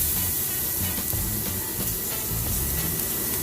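Chopped onion hits a hot pan for Jamaican-style curry shrimp, giving a steady, close, dense sizzle that holds evenly throughout without any voices.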